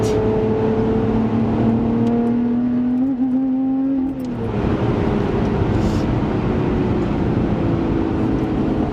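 A Lotus Evora Sport 410 engine revs hard under acceleration, a loud close rising drone that climbs toward the cutout, dips on a shift, then pulls again, with no talking.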